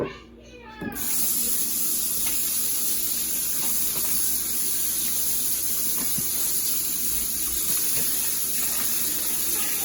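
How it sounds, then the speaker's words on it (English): Turkey wings rinsed in a kitchen sink with apple cider vinegar, a steady running-water rush from the tap filling the whole clip after a brief quiet start, with faint splashes and handling noises. "So I'm going to clean these right in the sink too with some apple cider vinegar."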